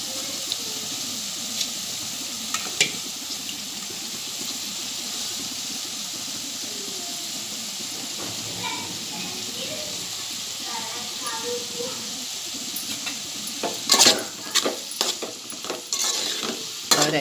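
Poha and softened onions are stirred in a frying pan, a steady scraping, rustling stir over a low sizzle, with a few sharper clinks and spoon knocks near the end.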